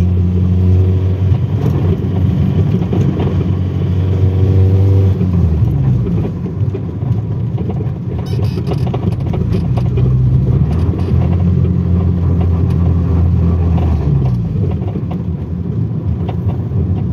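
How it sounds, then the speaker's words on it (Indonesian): Honda Accord Maestro fuel-injected sedan engine pulling hard under acceleration while driving, a loud close interior drone rising in pitch through gears, with brief dips between shifts and no talk. "Untuk tarikan mesinnya masih oke banget ini."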